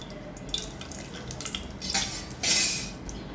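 Cardamom pods dropped into hot ghee in a pan for kavuni kanji give a soft crackle and sizzle with light clinks, swelling into a brighter hiss near the end, close and without voices.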